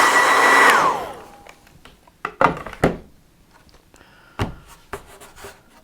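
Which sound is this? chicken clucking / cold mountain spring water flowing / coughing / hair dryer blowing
hair dryer blowing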